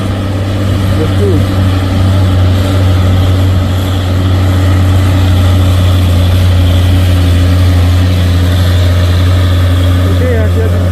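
A UD Twister truck engine runs with a deep, steady low rumble and drone that stays loud and constant throughout, with faint background noise above it.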